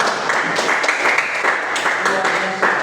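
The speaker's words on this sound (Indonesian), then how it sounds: "Oke, terima kasih tepuk tangan." Dense applause from a classroom of students after a group discussion in a Catholic religious education lesson, constant and close for the whole stretch, with voices mixed in.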